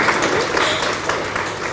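A stand-up comedy show audience claps and applauds in a dense, steady burst of many hands, filling the room for the full moment with no pauses.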